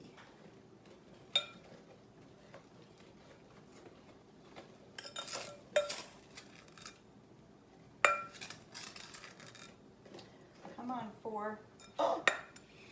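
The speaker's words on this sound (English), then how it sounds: "And keep stirring." Peach jalapeño jam being stirred in a pot makes faint, sparse clinks and scrapes of a utensil against metal. The sounds come at irregular moments under quiet speech, with a voice counting.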